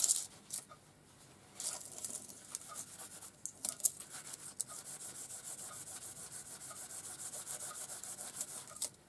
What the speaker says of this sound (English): Then I feel like you should just rub it off.